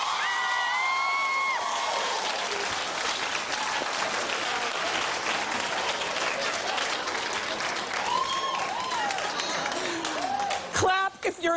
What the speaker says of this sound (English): Clap if you were watching ratchetness last night.